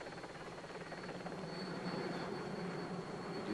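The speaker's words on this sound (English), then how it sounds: "our helicopter going down to the lone attackers here" A helicopter hovers over a 1994 Tour de France stage to Cluses, giving a steady, moderately loud rotor and engine drone with a faint rhythmic chop, continuous and without voices.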